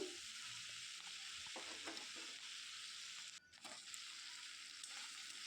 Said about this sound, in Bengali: ভালো করে নেড়ে আমি ভেজে নিচ্ছি